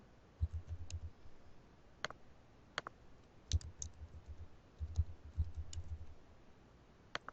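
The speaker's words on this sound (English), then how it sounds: "I'm going to click Remember Me and click Login" Crisp computer mouse clicks come through one at a time at irregular intervals during a WordPress login, with a low rumble and soft handling noise between them.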